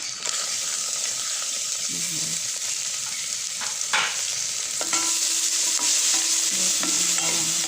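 Garlic frying in oil and butter in a pan while chicken afritada is being cooked, a steady close hiss of sizzling that holds across the whole stretch, with a few light knocks of stirring.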